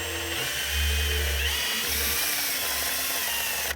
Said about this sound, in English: I'm going to prime it with my drill